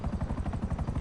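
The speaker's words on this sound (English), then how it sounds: "It's the fastest helicopter in the game." Voltus helicopter flying in a video game, a steady rhythmic rotor chop with pulsing beats, loud and continuous throughout, with no voices over it.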